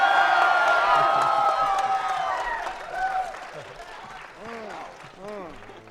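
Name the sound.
audience cheering and applauding at a panel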